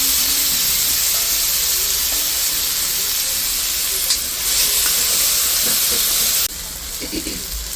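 Gobindobhog rice going into a hot pan with whole cumin for a Bengali dish, giving a steady close sizzle and hiss that briefly flares louder, then settles.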